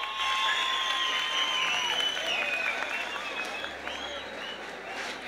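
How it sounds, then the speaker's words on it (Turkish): Concert audience applauding at an outdoor youth festival in Kayapınar, Diyarbakır, with steady, dense clapping and crowd noise throughout, while faint whistles or tonal sounds drift over the top. "Şu pırlanta gibi arkadaşlarımıza bir alkış alalım."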